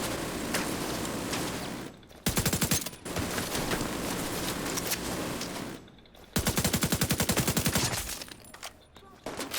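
Sustained machine gun fire in the video game The Division 2, long rapid bursts broken by two brief pauses, loud and dense with close, sharp repeating shots throughout.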